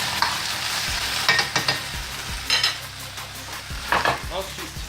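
A sauce of ketchup and mustard is stirred in a hot pan, with repeated scraping strokes and soft clacks of a utensil over a continuous sizzle, close and fairly loud.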